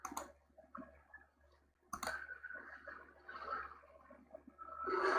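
A computer mouse clicks a few times while navigating the menu of a Kali Linux desktop, with sharp isolated clicks near the start and middle over faint room noise.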